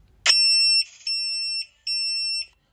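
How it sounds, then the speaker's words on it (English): A Medi Log II temperature logger sounds its three-beep audible alarm: three shrill electronic tones in a row, the first short and sharp, then two longer steady beeps, close and clear against silence. "the unit will initially sound a 3-beep audible alarm"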